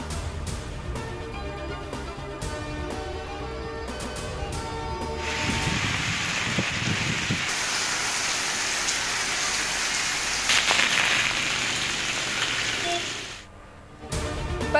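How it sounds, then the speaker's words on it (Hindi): Heavy rain in the Islamabad and Rawalpindi area pours steadily as a dense, loud hiss, rising to full strength partway through after a music-like opening, with no voices. "इस्लामाबाद, रावलपिंडी में तेज बारिश।"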